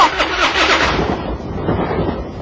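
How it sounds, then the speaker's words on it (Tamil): A car engine cranks and turns over, a rough mid-pitched mechanical churn that is loud and close, with busy noise in the first second before settling into a steadier idle-like rumble. "நான் சொல்றப்போ இன்ஜின் ஸ்டார்ட் செய்யுங்க"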